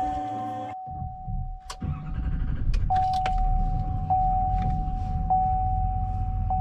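A cold 2018 GMC Sierra Denali HD diesel engine cranks and catches after a wait, then settles into a steady low idle with a faint electronic chime sounding repeatedly over it.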